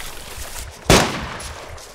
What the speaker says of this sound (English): Yeah, that was a warning shot.